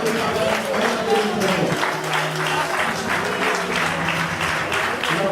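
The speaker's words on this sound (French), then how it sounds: "on applaudit." Audience applause fills a celebration honouring retired mothers in Côte d'Ivoire, a dense, continuous clatter of clapping with voices mixed in.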